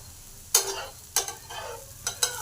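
Pesarattu, a dosa made from a moong and urad dal batter with poha, sizzles in an oiled pan, with a soft steady hiss broken by several sharp scraping strokes nearby and no talking.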